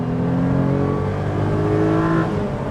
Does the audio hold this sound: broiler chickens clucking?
no